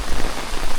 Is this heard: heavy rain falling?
yes